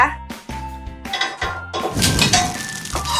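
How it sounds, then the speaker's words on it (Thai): A green frying pan clatters and clunks onto a stovetop in several separate knocks, with some talking in the background. "จะเอากระทะขึ้นมานะคะ"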